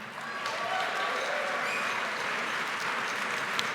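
Applause for the band at an award dinner, a steady, dense wash of clapping from a large seated audience that continues evenly throughout, with faint voices underneath.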